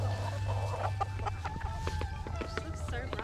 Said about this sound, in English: How many roosters have we got in here at the moment?